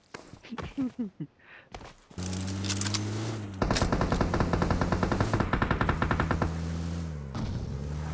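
Rapid automatic gunfire in the PUBG battle royale game rings out loudly, with sustained bursts of overlapping shots over roughly five seconds, preceded by brief game sounds and a few voices.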